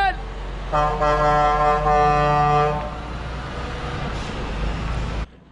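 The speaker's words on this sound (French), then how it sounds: "Un petit coup de klaxon." A car horn gives one sustained honk of about two seconds as a farewell, loud and steady, with low engine or road rumble underneath before and after.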